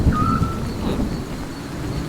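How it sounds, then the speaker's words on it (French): Steady rain falls in a fantasy-modded Minecraft world, a dense continuous patter at constant loudness with a low rumble underneath and no talking. "Il pleut tout le temps par contre, j'ai rarement vu ça."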